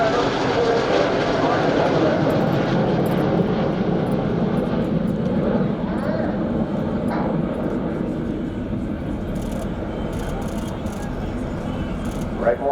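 RAF Red Arrows jets performing at an air display, a loud continuous roar of jet engines that slowly fades, with a commentator's voice over the noise.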